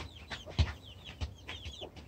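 A brooding mother hen clucks in short, close bursts while pecking at a hand holding a spoon, with soft thumps of pecks and higher chirps scattered between the clucks.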